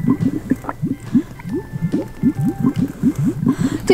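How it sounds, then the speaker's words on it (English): A toy bubble wand is blown in a quick series of soft wet puffs and pops, close and rhythmic, several per second with no voices over them. "let's blow some more bubbles"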